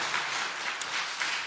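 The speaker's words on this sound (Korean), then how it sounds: "박수 한번 더 해주세요." Applause from a church congregation at a Friday worship service, clapping for the children: a steady wash of hands, moderately distant and fairly soft, continuing throughout with no voices above it.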